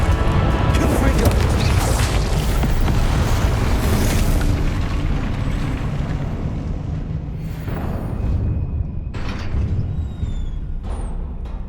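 Confringo blasting spells explode in Hogwarts Legacy, loud booming blasts over a dense, roaring battle din, with a fresh burst around the middle and sharp crackling hits near the end; a voice is heard amid the chaos.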